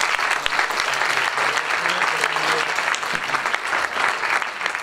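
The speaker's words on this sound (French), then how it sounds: "On peut les applaudir également." A conference audience applauds the event's organizers at a "Cuisinons un meilleur futur" evening: dense, steady clapping from many hands, sustained and fairly loud throughout with no talking.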